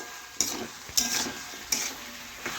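Vegetables being stirred in a pan under a steady low sizzle, with three or four distinct scraping, clattering strokes spaced about half a second apart, no talking.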